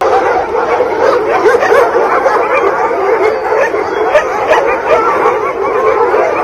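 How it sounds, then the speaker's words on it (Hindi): Dogs bark and yip continuously in a loud, dense layer of overlapping calls with some whimpering and howl-like tones, with no speech. "भौंकने की आवाज़ आ रही है"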